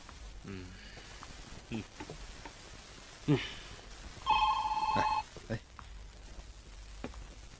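A single burst of electronic telephone ringing sounds against a quiet, slightly noisy room with a few faint knocks.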